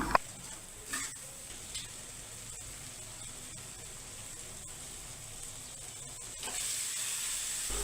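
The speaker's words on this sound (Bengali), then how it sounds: "মশলাগুলো বেশ কিছুক্ষণ কষিয়ে নিলাম" Spices being fried and stirred in a pan for a Bengali atta dal curry, a steady soft sizzle with occasional spoon scrapes, close and moderately quiet, with no talking.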